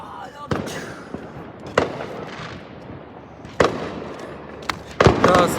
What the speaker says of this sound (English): Those fireworks.